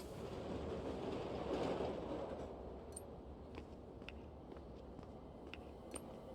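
Trains running in the video game Irony Curtain, a rolling rail rumble with rhythmic clickety-clack and occasional sharp metallic clanks, swelling slightly early on then holding steady at moderate distance.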